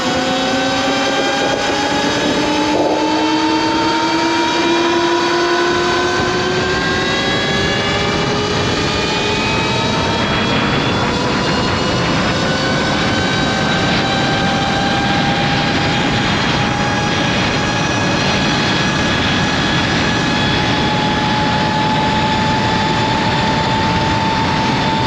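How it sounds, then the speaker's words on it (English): A Sur Ron electric dirt bike at 72v/60v with changed sprockets accelerates toward top speed, its motor whine climbing steadily in pitch over a loud continuous rush of wind and road noise, close and without talk. "So we'll let the motor just take it easy, working its way up. And then we'll give it some juice here in a minute."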